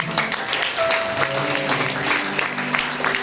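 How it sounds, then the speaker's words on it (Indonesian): Applause from a gathered congregation at a Christmas church service, steady clapping with a sustained tone and some voices mixed in throughout. "tepuk tangannya"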